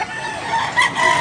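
Fighting rooster, a Tazmanian hennie-type gamefowl, letting out a short crow, close and fairly loud against a busy outdoor background.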